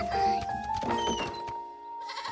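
Baby goats in a Curious George cartoon farm scene bleat in quick, overlapping wavering cries, loud and close, with a thunk partway through and a brief pause before the bleating returns.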